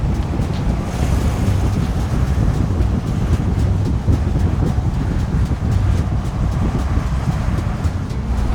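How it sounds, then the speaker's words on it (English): A deep, steady engine rumble with rushing wind noise, loud and continuous throughout, from a 1963 Lincoln Continental cruising at speed with its exhaust droning. "You hear the exhaust"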